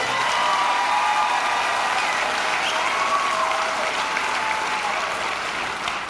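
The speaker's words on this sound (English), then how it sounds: "Let's give her a round of applause." An audience at the KCPS 2014 school convocation breaks into loud, sustained applause, dense clapping from a large crowd that holds steady and tapers slightly at the end.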